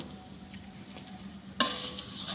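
Sugar going into a pan with fried cardamom to caramelise: a quiet faint background at first, then a sudden loud hiss and sizzle that stays on to the end.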